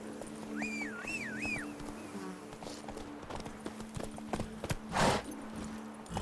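Roach the horse trotting in The Witcher 3, a clear rhythmic clip-clop of hooves close by, with a brief birdlike call and ambient game sound.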